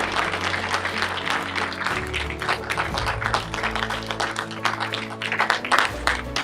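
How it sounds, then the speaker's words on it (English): An audience gives a sustained round of applause at a room dedication ceremony while steady musical tones play underneath, the clapping dense and continuous throughout. "One more round of applause, please."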